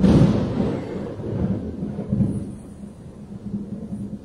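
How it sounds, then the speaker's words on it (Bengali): Deep, loud thunder from a lightning storm rumbles, strongest at the start, then rolls on and slowly fades, with faint rain beneath. "সাংঘাতিক বিদ্যুৎ চমকাচ্ছে, এরকম আওয়াজ শোনা যায় না"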